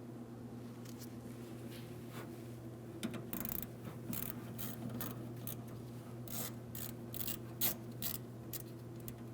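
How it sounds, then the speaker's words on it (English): A ratchet with a 1/4 inch socket loosens a hose clamp on the fuel pump module of a 2007-2014 GMC Sierra 2500 HD 6.0L V8, giving quiet close-up bursts of rapid clicking over a low steady hum. "We're using a 1/4 inch socket for this."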